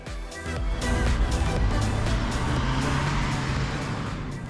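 A BMW 220i Gran Coupe with a 2-liter petrol twin-turbo engine driving past, with a loud, close engine and road roar that swells early and holds steady, fading slightly toward the end.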